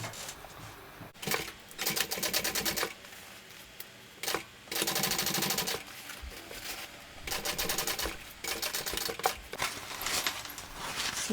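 A sewing machine runs in bursts while top stitching a bag gusset, each rapid mechanical rattle of a second or two separated by short pauses, close and fairly quiet.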